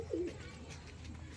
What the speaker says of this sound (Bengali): এটা একটা ক্রস পায়রা,